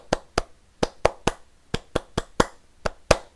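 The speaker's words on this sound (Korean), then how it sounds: "이거 337 박수라고 하는데요" Eleven crisp, close hand claps in the Korean 337 clapping rhythm, grouped in short bursts with brief pauses, heard alone in a quiet room.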